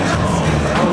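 A boxing arena crowd roars and cheers at a heavyweight bout as Mike Tyson enters for his 1997 rematch with Holyfield, a dense, continuous wall of crowd noise heard only for a brief moment.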